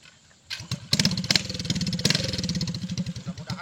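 A motorcycle engine starts and settles into a steady idle with a throbbing, rhythmic pulse, loud and close, after a quiet first half second.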